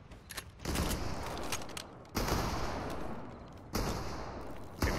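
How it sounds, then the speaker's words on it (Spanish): Bursts of gunfire in the video game Fortnite, a few dense volleys separated by short lulls, moderately loud with no voices over them. "Esas dos personas se meten disparitos."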